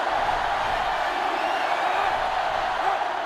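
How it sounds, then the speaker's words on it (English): Sellout stadium crowd in the NCAA Football 2005 video game, during an NC State versus Georgia college football matchup, roaring as a steady, dense wall of noise throughout without letup. "This sellout crowd is really making a difference now as these guys can't even call the play."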